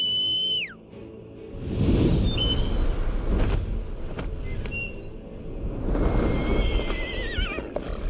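A horse neighs loudly in Kingdom Hearts 3 amid game sounds, with a whistling sweep early on and scattered effects and music throughout the loud passage.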